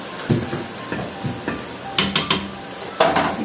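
Minced meat and spices frying in a pan and being stirred, with a spoon knocking and scraping against the pan in uneven strokes over a low sizzle, close up and with no talk.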